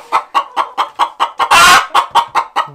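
A hen clucks loudly beside roll-away nesting boxes, giving a steady run of about a dozen sharp, evenly spaced clucks with one longer, harsher squawk in the middle, close and alone.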